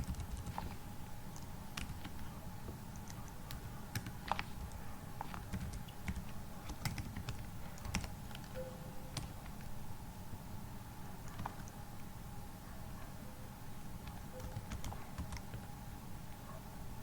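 Code being typed on a computer keyboard during an SAP ABAP programming session: steady, quiet clicking keystrokes in irregular bursts, close and alone, with no talk.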